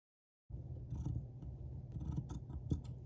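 Scissors cut through fabric for a crochet keychain wristlet, soft close snips and crunchy slicing strokes in an irregular rhythm after a moment of silence, quiet and alone.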